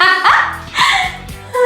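A dog barks several times in quick succession, loud and close, the yaps coming in an uneven burst.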